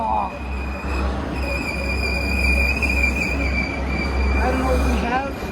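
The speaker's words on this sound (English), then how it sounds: "I caught an SD70 Mach going across the tracks." A freight train passing close by on the tracks, heard as a loud, steady low-pitched rumble of rolling cars with sustained high metallic wheel squeal on top, and a voice briefly audible near the end.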